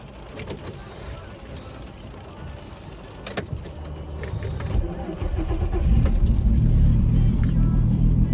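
A VW MK5 Golf R32 with a turbo and a misfire problem: keys jangle and click, then the engine turns over and settles into a steady low idle rumble that grows louder over the final seconds.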